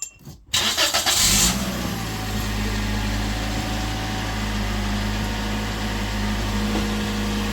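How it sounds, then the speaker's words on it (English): A 2015 Toyota Verso engine cranks briefly and catches, surging up loudly before settling into a steady, even idle close to the microphone. "And turn on the car and check it, how it goes."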